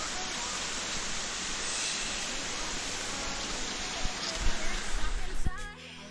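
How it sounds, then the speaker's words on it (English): A small forest waterfall carrying only a little water after rain gives a steady, broad hiss of trickling flow, with a few louder knocks and splashes near the end. "This here is technically a waterfall, but I would hardly say that there's much water in it now."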